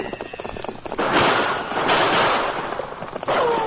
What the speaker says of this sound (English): In spite of the flying bullets, which came dangerously close, the great Silver held his swift pace